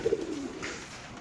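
A female racer pigeon with a leg tag gives a short, soft coo close by, two quick low throaty pulses at the start and then a fading murmur, heard alone without talking.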